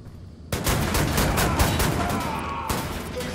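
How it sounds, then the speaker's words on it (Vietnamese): Gunfire in Wolfenstein: The New Order, a video game, bursts in abruptly as a rapid, loud fusillade of automatic shots, sustained for about two seconds before pausing briefly and resuming. "À, đạn gì mà sao nó bắn ghê vậy?"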